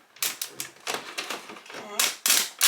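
Transfer tape peels back from a corner of a balloon decal with a series of crackling, sticky tearing bursts, close and fairly loud, ending in two sharper rips.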